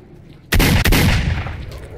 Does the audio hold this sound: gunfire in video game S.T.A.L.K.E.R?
yes